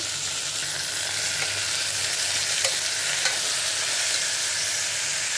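Brinjal pieces, chopped tomato and curry leaves frying in a pan, a loud, continuous close-up sizzle with faint stirring scrapes, no voices.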